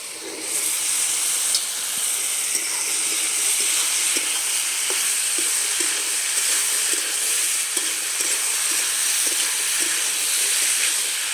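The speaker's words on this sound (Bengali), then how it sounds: "আলু ছোলাটা কষানো হয়ে গেছে" Potato and chickpea chana masala being stir-fried in a pan, giving a steady, close sizzle with faint scraping clicks from stirring throughout and no talking.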